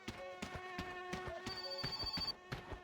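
A telephone rings in a video game with a fast, buzzing electronic trill of rapid bell pulses that repeats steadily and fairly quietly, with no one talking.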